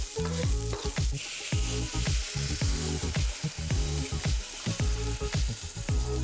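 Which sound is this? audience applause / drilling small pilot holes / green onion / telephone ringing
green onion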